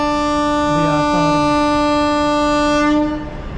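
A loud, sustained train horn on a rail journey from Jalandhar to Sultanpur Lodhi blares close by for about three seconds, then cuts off, with a brief voice underneath.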